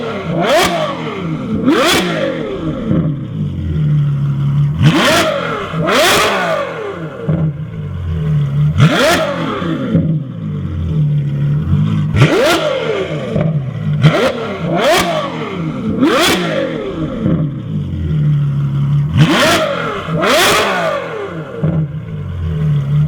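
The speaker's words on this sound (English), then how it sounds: "when you switch that little switch, the valves open in the exhaust and it really does become somewhat of an absolute weapon." Ferrari F12 N-Largo by Novitec with its exhaust valves open, revved hard in a run of about eight loud, sharp bursts that climb and fall back, each snarl dropping quickly to a rumbling idle between blips.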